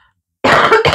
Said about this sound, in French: attention, je tousse